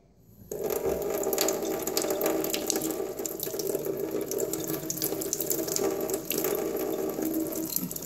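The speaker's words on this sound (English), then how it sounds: "I'm gonna rinse my brush." Kitchen tap water runs steadily into a sink as a paintbrush is rinsed, starting abruptly after a brief silence and continuing as a close, even splashing rush.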